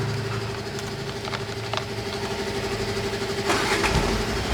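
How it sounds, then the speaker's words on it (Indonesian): A vehicle engine, checked for a hard brake pedal, runs at a low steady idle throughout, with a brief louder rise near the end. "Mesin hidupin dulu."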